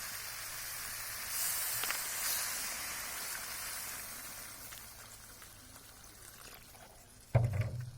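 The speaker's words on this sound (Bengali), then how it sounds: "এখন ঝোলটা দিয়ে দিব।" Broth pours into a pan of radish and river fish curry, a steady close stream of liquid with a gentle sizzle that thins out and ends in a sharp clatter.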